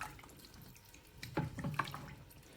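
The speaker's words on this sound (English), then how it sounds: "And then what we do is we chuck in the water." Water poured into a pot of softened onions for pea and ham soup, a faint trickle rising into a brief, louder splashing gush, with no talk.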